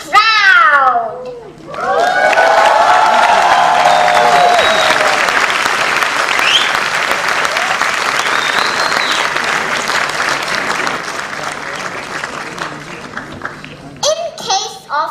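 Loud audience applause at a school event in Mumbai, a dense roar of clapping and cheering that builds quickly and stays steady for over ten seconds, briefly preceded and followed by a voice, with a high squeal near the start.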